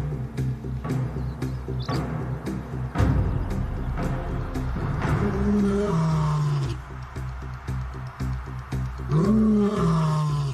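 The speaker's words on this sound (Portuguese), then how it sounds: "Seu rugido alto e potente é um grito de guerra." Male lions roar in a wild territory dispute, deep powerful repeated roars building into a series of grunting calls, loud and close over rumbling low ambience.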